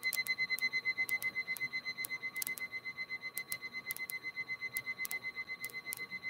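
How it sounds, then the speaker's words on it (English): A warning alarm sounds inside a light propeller aircraft cockpit as a steady, repeating pulsed tone with sharp clicking accents at regular intervals, moderately loud and continuous, with no talking. "Hold on, I'll kill that alarm in a minute."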